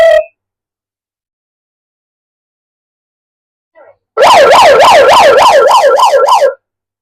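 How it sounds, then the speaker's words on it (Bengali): A loud electronic megaphone siren wails in a fast, rising-and-falling pattern for about two seconds after a brief silence, with a short blip beforehand. "এখানে আমরা দুটো সাইরেনের অপশনও শুনে ফেললাম"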